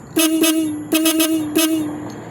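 Three loud horn blasts from a Yamaha Mio scooter with upgraded full-wave wiring: a quick double toot, then another double, then a single short beep, close by.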